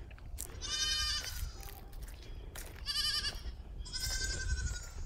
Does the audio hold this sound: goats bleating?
yes